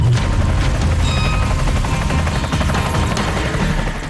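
An Indian Air Force Apache helicopter runs at a forward air base ahead of a night operation, its turbine whine and rotor thrum a loud, continuous, close roar throughout.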